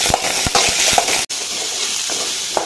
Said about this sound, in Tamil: வெங்காயம் வேமாகிறதுக்காக கொஞ்சம் உப்பு நல்லா வதக்கிக்கலாம்